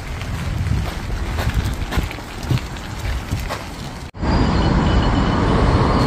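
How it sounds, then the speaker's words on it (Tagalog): A train arrives at a station, giving a loud, steady rumble with wind buffeting, briefly cut off before a dense, even roar resumes close by. "Late pa yung train. Dapat 1:52 eh. 1:53 na. Ayan na, paparating na."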